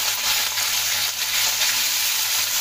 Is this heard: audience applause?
no